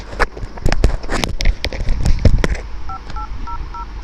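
Several sharp clicks and knocks at first, then a series of short paired keypad tones beeping evenly through the small speaker of a water-damaged Samsung Galaxy A10s phone under repair.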